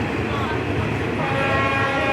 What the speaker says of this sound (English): And there the train is departing, like that way.